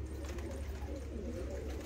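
Several pigeons coo steadily in a breeding set, soft low burbling calls running continuously over a dense hum of background noise, with no voices.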